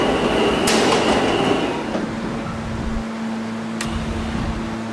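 A D train riding along its rails, a steady rumbling roll with a low hum and a couple of sharp metallic clicks from the wheels, heard from inside the car.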